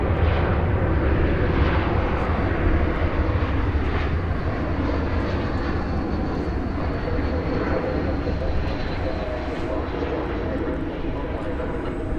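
American Airlines Airbus A319 at DFW Airport, a loud steady jet engine roar with broad rumbling noise throughout, with a voice talking faintly beneath it.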